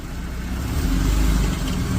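A Holly Springs police car pulls up close by, its engine giving a steady low rumble that swells slightly as it rolls in and settles.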